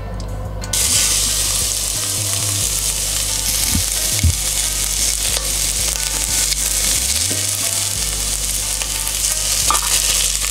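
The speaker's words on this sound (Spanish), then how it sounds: "Una vez tengamos todo cortado, echamos los ingredientes a la olla. Echamos el aceite." Celery, mushrooms and other vegetables hit hot oil in a pot for ramen, setting off a loud, continuous close sizzle with occasional stirring scrapes and knocks, and no talking.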